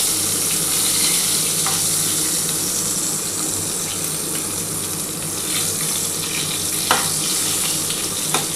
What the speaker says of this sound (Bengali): দেখো, খুবই ভালো করে ভেজে নিয়েছি।